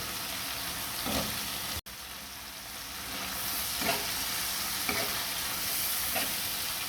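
Chopped peeled shrimp frying in cooked-down spice paste for a pumpkin-greens dish, a steady close sizzle with periodic scraping stirs and one brief dropout, no talk.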